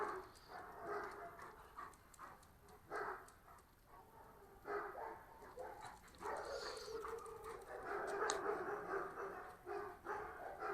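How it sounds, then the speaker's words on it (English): A dog barks repeatedly in the distance, faint and muffled, in irregular bursts over steady outdoor background noise. "That other dog you can hear barking,"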